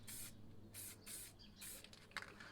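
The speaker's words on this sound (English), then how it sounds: "So this is spitting a bit, these cans, and I'm spraying it a bit lighter." Aerosol spray paint can hissing in several short bursts, a bit spitty and uneven, close up and fairly quiet, with no talking.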